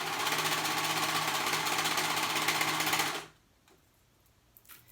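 A sewing machine runs a stretch stitch along the waistband of a high-low skirt, a steady close whirring hum for about three seconds that stops abruptly, leaving near silence with a few faint handling clicks.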